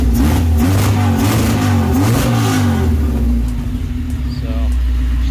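The engine of a 1994 Honda Prelude Si is revved repeatedly up close. It rises and falls in loud swells, then settles back to a steady idle, with no talk over it.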